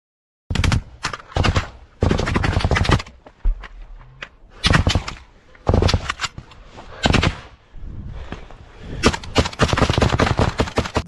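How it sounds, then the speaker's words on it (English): Close-range combat gunfire between Ukrainian and Russian soldiers comes as loud, ragged bursts of automatic rifle fire with short pauses between volleys and a long sustained burst at the end, harsh and near. "Russian bullets crack just over his head"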